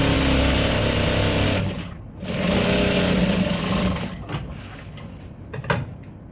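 A sewing machine hums steadily up close as it stitches the side seam of a tote bag lining in African print fabric, then slows and stops with a few light handling sounds.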